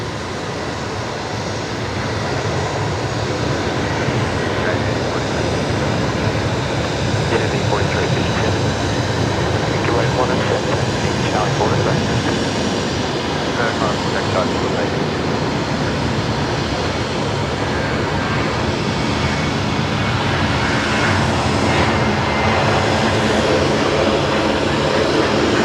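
A Velocity Boeing 737 rolls for takeoff at Brisbane Airport, its jet engines producing a steady, broad roar heard from a distance for the whole stretch, with faint background chatter.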